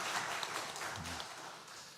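Congregation applause during a Sunday worship service at a church, a soft, steady wash of clapping that stays fairly quiet and even for the full two seconds with no voices over it.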